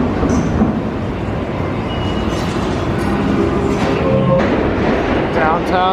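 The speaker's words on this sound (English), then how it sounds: "first time on the subway in a while." A New York subway train rides along the R line with a loud rumbling roar and a few high wheel squeals. Voices can be heard talking underneath the train noise.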